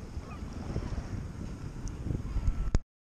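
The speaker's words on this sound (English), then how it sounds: "And the wind is trying to pick up." Outdoor wind buffeting the microphone, a low rumbling roar that rises and falls for nearly three seconds before cutting off abruptly.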